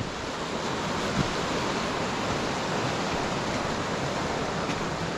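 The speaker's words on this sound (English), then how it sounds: "Look how fast the water's running here." Fast-flowing stream water rushes in a steady, dense hiss, close and constant with no voices.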